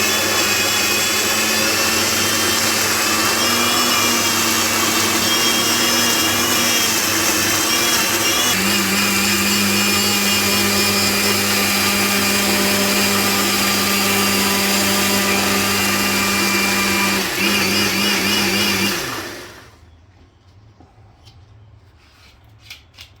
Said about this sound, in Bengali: আমার মশলা ব্লেন্ডার হয়ে গেল